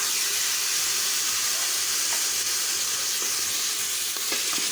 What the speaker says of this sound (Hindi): मटन को अच्छी तरह से भूनना।